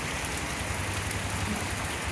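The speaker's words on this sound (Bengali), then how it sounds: "মৌসুম ধারে বৃষ্টি হচ্ছে এখন একটু কম" Monsoon rain falls steadily, a constant close hiss of drops on surfaces at an even level, with no talking.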